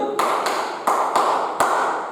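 Single hand claps, five in all, each crisp and close, spaced at a loose, uneven rhythm, with a brief voice just before the first clap.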